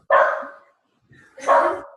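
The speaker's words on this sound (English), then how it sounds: "I can hear the dogs." Two sharp dog barks ring out about a second apart, fairly close and loud, with quiet gaps between them.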